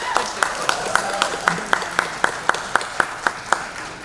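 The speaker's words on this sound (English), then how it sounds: "can we applaud that, please?" An audience at a Bollywood event applauds, with sharp claps in a steady rhythmic beat over a soft crowd wash, moderately close.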